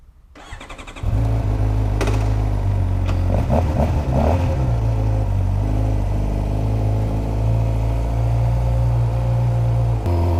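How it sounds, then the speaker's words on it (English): A 2016 Suzuki GSX-R 600 sport bike's engine roars loud and close after a brief quiet start, holding a steady high-revving drone with slight rises and dips while riding, no talk. "we are driving a 2016 GSX-R 600"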